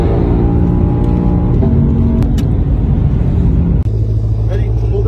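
A fast car's engine roars and rumbles continuously through a lap, loud and close from inside the vehicle, with the pitch shifting as it accelerates, while people talk over it.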